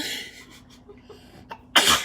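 A single sharp sneeze bursts out loudly at the end after a quiet stretch with faint breathing and small noises.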